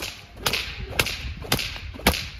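Four sharp whip cracks at roughly half-second intervals, close and loud, snapping near a solid American Pit Bull Terrier puppy with no voices over them.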